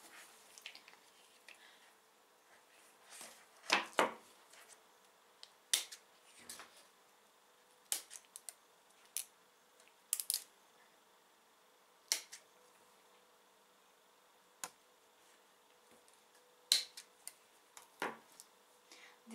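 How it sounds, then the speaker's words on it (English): Small hand pruners snipping through a little orchid basket, a scattered series of sharp close clicks and snaps spaced irregularly in a quiet room. "This type of pruners are really handy a lot of the times."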